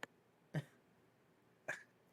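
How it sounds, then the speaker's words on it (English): Three short, separate coughs from a person, spaced unevenly over about two seconds, fairly close and moderately loud, with no talking in between. "You're making me cough."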